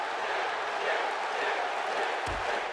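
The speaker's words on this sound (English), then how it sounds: "The crowd are shouting tap" A WWE 2K16 wrestling arena crowd keeps up a steady, moderately loud roar of shouting, with a low thump near the end.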